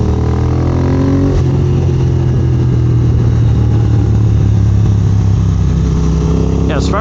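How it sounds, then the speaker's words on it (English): A 2022 Triumph Speed Twin engine runs loud and close on a dyno, with a steady, deep drone and a small shift in pitch. "The motor sounds healthy."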